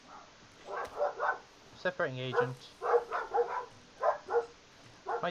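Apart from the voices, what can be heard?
dogs barking outside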